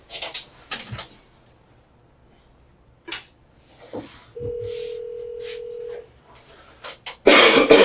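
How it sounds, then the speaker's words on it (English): A telephone being dialed, with a sustained tone partway through, surrounded by clicks, a cough and brief noises, ending in a loud burst of noise. "now just dial the number"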